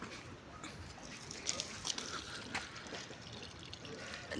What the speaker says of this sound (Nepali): र अहिले भने चाहिँ म फुलमा पानी लाउँदैछु।